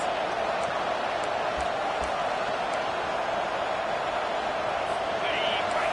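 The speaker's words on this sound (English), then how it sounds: "Listen to this crowd just shaking the girders of this place, trying to help their defense" Stadium crowd roaring in the College Football 25 video game, a constant broad wall of noise that holds steady throughout, with a commentator voice running over it.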